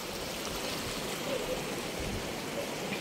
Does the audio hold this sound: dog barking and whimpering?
no